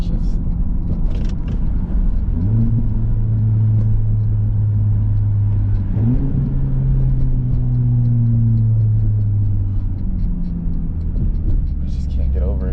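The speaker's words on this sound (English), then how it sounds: "listen to these downshifts." A Honda Civic Type R with the muffler and resonator deleted, its low, loud exhaust drone rising in two sharp rev blips as it downshifts, with road rumble throughout.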